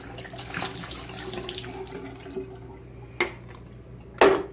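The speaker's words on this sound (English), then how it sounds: "go ahead and pour out all the water." Water poured out of a film developing tank after washing 35mm film, a steady close splashing stream into a sink that tapers off, followed by two short bursts of draining drips.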